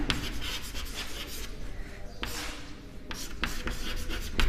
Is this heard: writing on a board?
yes